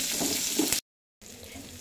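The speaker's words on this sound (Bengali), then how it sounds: "এখন আমি এখানে পেঁয়াজের কালি রাখছিলাম, ওটা আমি ভেজে নিব।" Onion stalks fry in hot oil in a home kitchen, a soft steady sizzle that cuts out abruptly, then returns more faintly.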